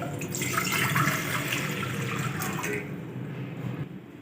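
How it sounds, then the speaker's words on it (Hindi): Half a litre of water gushes steadily into a pan set on the stove for a Maggi pakoda recipe, a close, continuous splashing pour that eases off near the end. "आधा लीटर पानी ऐड करेंगे"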